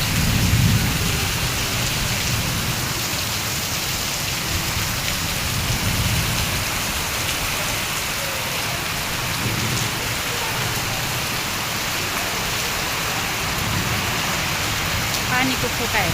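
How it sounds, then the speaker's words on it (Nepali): Heavy rain pours steadily during a daytime thunderstorm with strong wind, a dense continuous roar with low rumbles of thunder, close and loud throughout, with a parked scooter getting soaked nearby. "यस्तो पानी परेको छ है साथीहरू"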